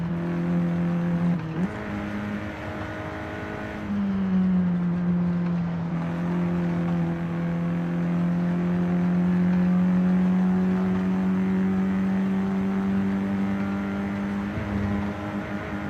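A front-wheel-drive car in the Forza Horizon 5 racing game drones steadily through a turn, its engine note dipping as the throttle eases and then holding a smooth, sustained hum with tyre noise, close and continuous.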